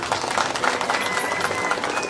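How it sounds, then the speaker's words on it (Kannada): An audience at a school jubilee ceremony claps loudly for two teachers, a dense continuous burst of hand clapping from many people, steady and close across the whole stretch. "ಆ ಇಬ್ರು ಶಿಕ್ಷಕರಿಗೆ ಜೋರ ಚಪ್ಪಾಳೆ ಬರಬೇಕು"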